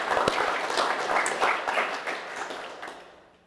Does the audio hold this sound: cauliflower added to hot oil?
no